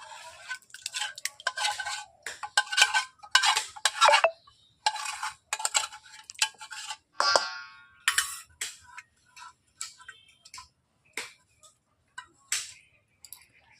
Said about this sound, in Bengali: বন্ধুরা দেখতেই পাচ্ছেন সবগুলো উপকরণ দিয়ে আমি দই দিয়ে শুধু মেখে নিচ্ছি।